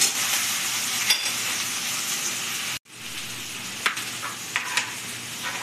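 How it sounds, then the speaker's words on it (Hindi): Chopped onion frying in a pan for chhole bhature, a steady loud sizzle and crackle with a brief break in the middle and a few sharper pops, close up with no talking. "जब तक ये प्याज भुजा रहा है"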